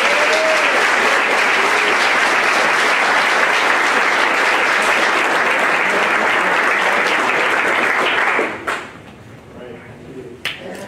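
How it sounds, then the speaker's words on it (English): Loud, dense applause from a live audience at a Bitcoin talk in Prague, sustained steadily for about eight seconds before tapering off into scattered claps and room noise. "So let's give him a round of applause."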